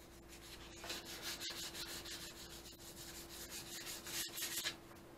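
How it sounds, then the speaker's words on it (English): Hand sanding of a bike's painted frame with 120-grit sandpaper, a steady raspy rubbing with rhythmic strokes, close and moderately quiet, no talking. "Okay, so I got that sanded."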